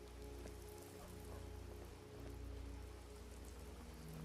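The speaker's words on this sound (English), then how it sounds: "Sorry if you guys can hear the rain outside, by the way." Steady rain falling outside, a faint continuous hiss and patter with a low hum underneath, constant throughout without any voices.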